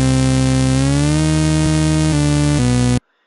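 Loud, heavy dubstep synth line from a piano roll, its pitch gliding upward into a sustained buzzy tone before stepping through a few more notes and stopping abruptly.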